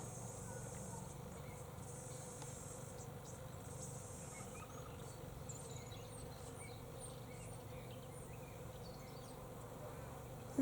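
Bees buzz steadily up in an Osage orange tree, a continuous droning hum with insect chirps and faint birds over an even outdoor background, no pauses.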